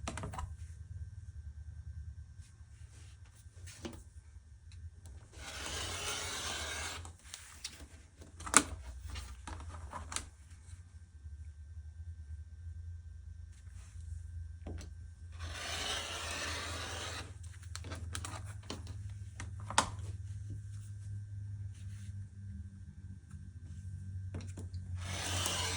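Fabric is cut into 4.5-inch wide strips for a quilted tree skirt, heard as a few separate soft rasping strokes spaced several seconds apart over a low steady background hum.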